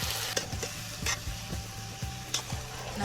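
Country chicken pieces fry with a steady sizzle while a spatula stirs and scrapes the pan in quick repeated strokes, up close with no talking.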